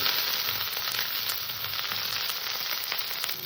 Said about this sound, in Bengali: বেগুনটাকে হালকা করে ভেজে নেব